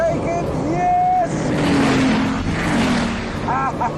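A Bugatti Veyron with 1,000 horsepower accelerating hard at high speed in a race against a McLaren F1, a loud engine roar with rising and falling pitch under an excited voice.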